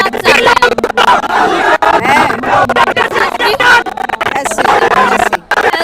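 A street protest crowd rallying in support of UGC shouts and chants in loud, dense bursts, with overlapping yells and voices close by filling the whole stretch.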